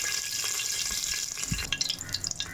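Whole spices, including a bay leaf, cinnamon, cloves and star anise, fry in hot oil in a pan for mutton curry, giving a steady sizzle with small pops and crackles toward the end.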